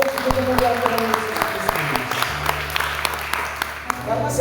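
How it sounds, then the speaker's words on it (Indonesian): Audience applause fills a church gathering with steady, sustained clapping, while a voice speaks and a sustained instrument tone continues underneath. "Tepuk tangan dulu"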